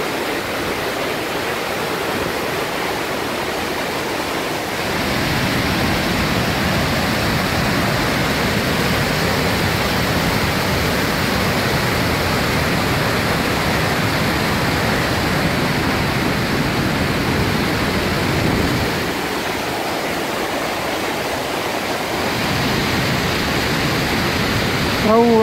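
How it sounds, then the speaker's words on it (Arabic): Waterfall at Gorges de Durnand in Switzerland, water pouring down in a loud, continuous broadband roar that fills the whole scene and stays steady from start to finish. "الماي من كل صوب يخر"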